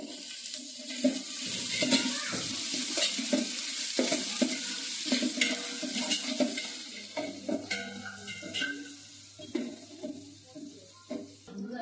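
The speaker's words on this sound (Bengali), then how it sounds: "একটু ভালো করে ভাজে নিচ্ছে মশলা টসলাগুলো, কাজু কিশমিশ সব ভালো করে" Spices, cashews, raisins and onion fry in a pan, giving a steady sizzle with repeated scraping and stirring clatter from a close spoon and some pan knocks.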